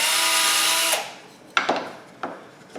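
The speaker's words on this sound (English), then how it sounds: "I'm going to countersink these slightly first so that the head will set below the surface." Power drill countersinking holes in scrap wood for small brass screws, a loud high whirring burst that winds down after a second, then a few short knocks and clicks as the piece is handled.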